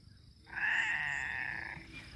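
A cat gives a single drawn-out, strained cry lasting over a second, close and clear after a brief quiet, fading into low background noise.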